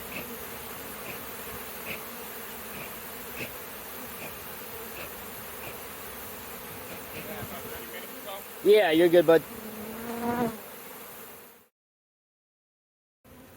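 Honey bees buzz in a steady, moderate hum during a hive removal, with a short burst of louder buzzing near the end and a brief spoken remark before the sound cuts out.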